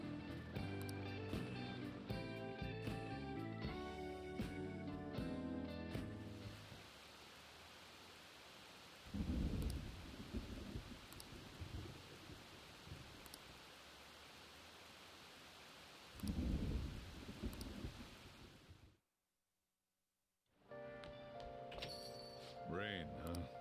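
Rain falls in Persona 5 Royal as a steady soft hiss. Voices speak over it, and the hiss follows a stretch of music, then cuts briefly to silence before more music.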